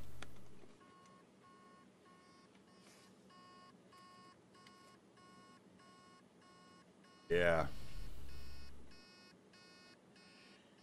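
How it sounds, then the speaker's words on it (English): A failing hard drive with its heads stuck on the platter emits a steady, repeating series of short electronic beeps at an even rhythm, with a brief loud burst of handling noise and a short spoken word partway through. "you can hear the beeping noise"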